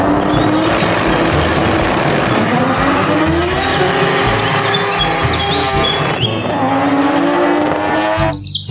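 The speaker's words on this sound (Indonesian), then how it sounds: "Di sini ada mobil balap." A toy race car buzzes and whines continuously with rising and falling engine-like tones and chirpy squeals, loud and close, ending with a brief high electronic tone.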